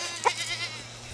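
A single short goat bleat rings out on a farm that keeps goats, cows, rabbits and chickens, set against a steady low background hum.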